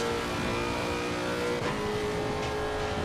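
Race car engine from Assetto Corsa Competizione lapping the Nordschleife uphill, a steady loud sustained drone with shifting harmonic tones and a brief gear-change dip midway, no talk.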